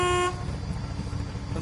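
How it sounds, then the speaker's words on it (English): A car horn in Fortnite gives one steady, loud tonal honk for a moment before cutting off, leaving a low rumble of engine and game noise underneath. "What are you honking the horn so fucking much like that?"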